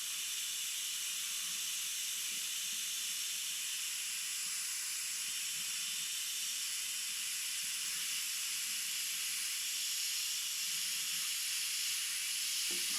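An airbrush sprays paint onto an Elden Ring mural, giving a continuous, even, bright hiss that runs unbroken the whole time, fairly close and alone without any voices.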